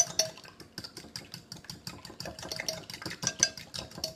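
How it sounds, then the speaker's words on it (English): Eggs whisked together in a bowl make a fast, steady run of light clicks and taps as the whisk strikes the sides, close up and alone. "We're going to now just simply whisk these eggs together."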